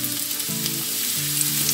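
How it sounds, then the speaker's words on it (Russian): Pieces of pumpkin sizzle and crackle steadily in a hot frying pan, a busy close frying hiss with no talking. "И так нам нужно всю тыковку"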